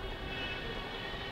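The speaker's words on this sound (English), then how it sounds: "I heard a Stuka just then" A steady, droning aircraft engine hums at moderate volume throughout. It belongs to a Stuka dive bomber in War Thunder, which sounds distant and has no talk over it.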